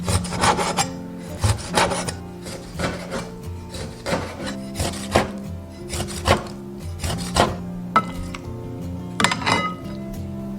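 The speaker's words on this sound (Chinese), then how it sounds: "把五花肉切块。" A knife chopping pork belly into pieces on a cutting board, with a steady run of sharp, close thuds and clinks at an irregular rhythm, no talking.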